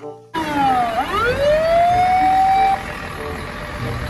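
A toy fire truck siren wails up and down, a single electronic sweep rising and holding steady, loud and close, then cutting off abruptly.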